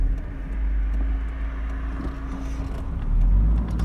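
A 1986 Vauxhall Cavalier drives around a village, its engine a steady low rumble heard from inside the car, swelling slightly louder toward the end as it pulls harder.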